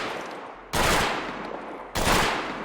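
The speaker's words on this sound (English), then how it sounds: "As you can see, burst fire." Pistol fired in burst mode, a modded sidearm built for power armor in Fallout 4, delivering two loud, sharp bursts about a second apart, each with a decaying tail, with no voices over them.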